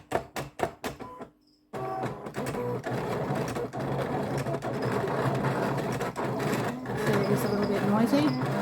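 Vinyl cutting machine slicing glossy vinyl, a dense mechanical whir and rattle running continuously after a few sharp clicks at the start, close and steady with a voice speaking over part of it.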